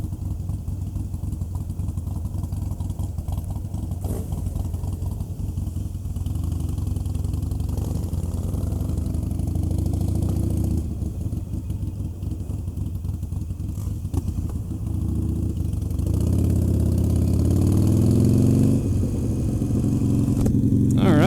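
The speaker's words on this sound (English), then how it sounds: "A lot of bikes, got some Harleys, got some Beamers" Several motorcycles, Harleys and BMWs gathered for a group ride, idle together in a steady, loud low rumble that swells slightly toward the end, with no talk.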